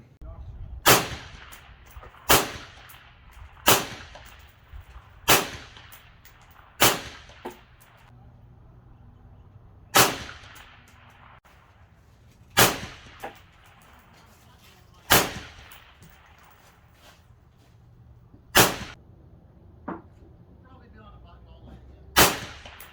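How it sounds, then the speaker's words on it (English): A CZ Bren 2 5.56 rifle fitted with a Dead Air Nomad suppressor fires about a dozen separate, sharp muffled cracks, spaced unevenly a second or more apart. Each crack rings and echoes briefly before fading, with no speech. "let's take a look at some of the shooting footage that I shot with this gun"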